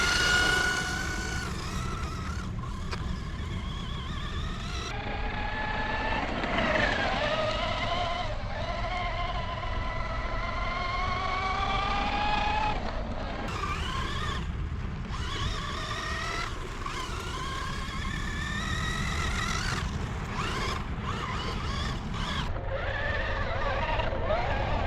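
A Kyosho Javelin 4WD RC buggy drives with its small motor whining, the pitch sweeping up and down as it accelerates and spins its tires, with brief pauses and a voice talking at times.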